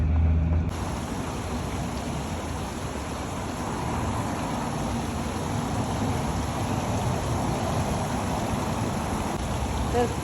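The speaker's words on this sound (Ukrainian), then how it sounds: "Дзюркотить вода, чую дзюркотити." Water babbles continuously in a small fountain in Kyiv, a steady close splashing wash with a brief low thump at the very start and no clear voices.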